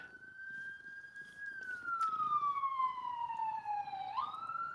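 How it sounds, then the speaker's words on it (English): An ambulance siren wails steadily, its pitch sliding downward as it passes by, moderately loud over low background rumble. "You hear the ambulance? Yep, they're coming by."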